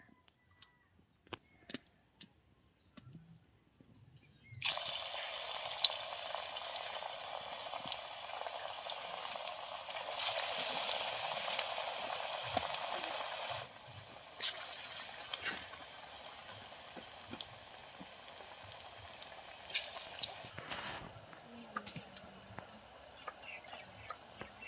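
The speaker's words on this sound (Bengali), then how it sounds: "এইভাবে সবগুলো আমি ভেজে নেব" Onion fritters (piyaji) sizzle in hot oil, a loud, steady hiss that starts suddenly and swells and dips as more batter goes in. Faint scattered clicks come first.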